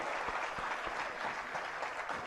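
An audience at a Jinvani Channel religious gathering claps to welcome honoured guests; moderate, steady applause with a few distinct louder claps standing out, no speech over it.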